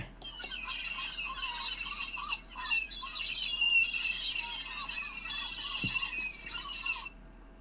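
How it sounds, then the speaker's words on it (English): Electronic seagull cries squeal and squawk continuously for about seven seconds, a sound effect from a Chap Mei K.O shark research boat toy playset played alone at moderate volume. "Seagulls 3."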